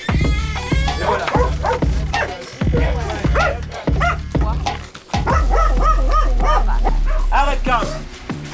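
Dogs bark, yip and whimper in repeated bursts near a house, loud and close, with people talking in French over and between the barks.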